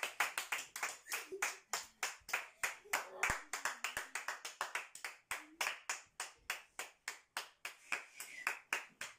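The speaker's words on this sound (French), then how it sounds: "On va bien applaudir." Rhythmic clapping from a small group in an adult karate class, steady and fairly close, continuing for several seconds with no one speaking.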